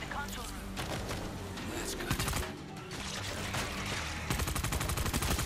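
Gunfire in the World War Z: Aftermath video game, loud sustained bursts of rapid shots with crowded game noise, and speech mixed in beneath the firing.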